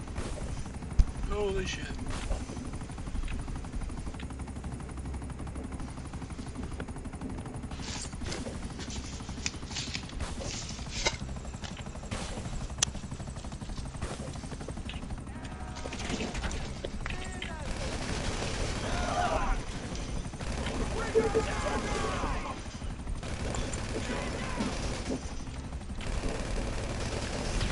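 Tactical SMG gunfire in GTA V, rapid automatic bursts crackling repeatedly and at moderate volume over a busy background of engine hum, helicopter-like drone and scattered impacts, with a person briefly exclaiming.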